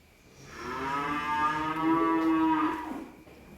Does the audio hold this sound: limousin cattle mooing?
yes